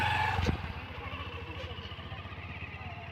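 A motorcycle engine putters with a rapid, pulsing rhythm, a brief louder clatter at the start, then steady running close by.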